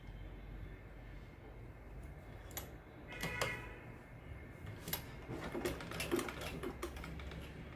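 A sewing machine stitches along folded cloth on a saree blouse back neck, a steady low mechanical whir with faint ticking clicks running throughout, close and moderately loud.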